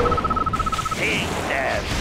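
Torpedo explosions in Red Alert 2 erupt as a deep, rumbling boom that swells and holds, layered with electronic tones and game effects, loud and close.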